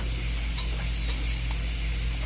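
Lobster sizzles in a pan with butter, a steady close hiss and crackle over a constant low hum, with no talk.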